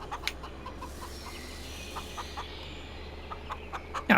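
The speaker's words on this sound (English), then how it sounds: "I'll keep 5 chickens and a cockerel going for a wee bit, I think." Chickens clucking in the Farming Simulator 25 video game, with short, scattered clucks over a steady ambient background and a louder burst near the end.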